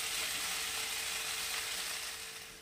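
Mixed vegetables fry in a pan for a restaurant-style dish, giving a loud, continuous close sizzle that tapers off slightly near the end.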